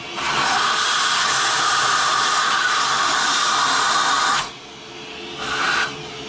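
A vacuum roars with a loud, airy whoosh, cuts out briefly, then surges back for a short burst before stopping.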